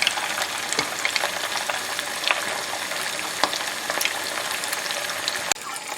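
Chicken 65 fries in hot oil with a loud, steady bubbling sizzle dotted with crackles and pops, close and constant throughout.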